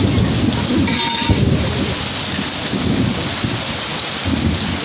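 Torrential rain pours down hard in a continuous, loud roar during a flooded festival season, with low rumbles of thunder rolling underneath and no voices.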